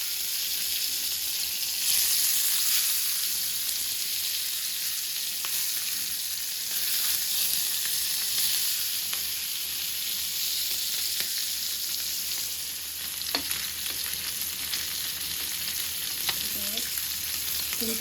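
Fish frying in a steel pot gives a steady, close sizzle and crackle that runs on unbroken for the whole stretch, with no talking over it.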